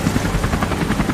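A cartoon helicopter flies overhead, its rotor giving a loud, continuous, rapid thumping chop that holds steady throughout.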